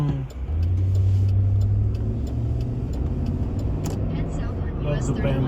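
A truck drives along a main road through a tornado-struck area of Fultondale, Alabama, its engine rumbling steadily and loudly close by with a rise in revs early on, accompanied by continuous road noise.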